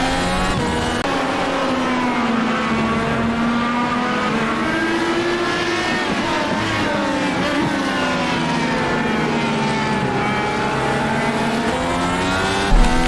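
Dallara IR18 IndyCar engine in iRacing at Spa-Francorchamps, a loud, steady high-revving whine with rising and falling pitch as gears change, continuous and up close for the whole stretch with no talk.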